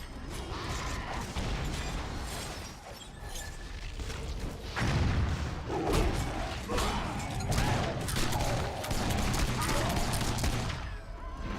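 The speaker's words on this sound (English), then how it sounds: "Look at those lovely explosion sounds." Rapid explosions and shell blasts in the online video game Warhammer Online, a dense run of booming cracks and thuds layered with clanking mechanical effects, loud and close throughout.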